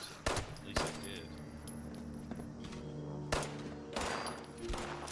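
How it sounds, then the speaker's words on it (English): Several sharp gunshots in the video game Fallout 76, spaced irregularly over a steady hum of game ambience, with louder cracks near the start and a cluster toward the end. "getting shot at"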